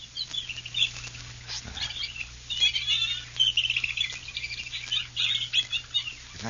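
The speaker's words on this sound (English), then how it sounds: "The birds of the swamp. Hear it?" Swamp birds near Lake Michigan call in a busy chorus of chirps and twitters on an old, narrow-band recording, with someone briefly speaking.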